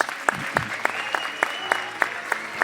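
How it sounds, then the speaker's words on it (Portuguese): Church congregation applauding for the pastors, with sharp individual claps popping out in a loose, uneven rhythm over a thin background of crowd noise. "Então dá um aplauso para os pastores"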